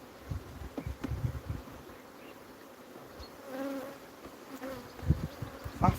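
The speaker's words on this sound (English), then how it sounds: "I can't believe how many bees are still in here." Honey bees buzz steadily inside an open hive during a full inspection and removal of swarm cells, a dense close hum with scattered louder passes near the ear and occasional handling knocks.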